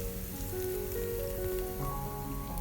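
Blended egg poured into a hot pan for an omelette, a steady soft sizzle and crackle throughout, close and fairly faint, with no talking.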